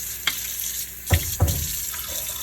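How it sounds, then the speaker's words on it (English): Cold water is poured over catfish in a bowl to rinse it, heard as running, splashing water with a few sharp splashy bursts over a steady background hiss, close and without talk. "You try to pour cold water over the catfish, and I'll be doing that now."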